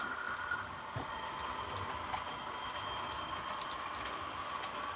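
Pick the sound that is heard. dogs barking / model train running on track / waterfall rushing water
model train running on track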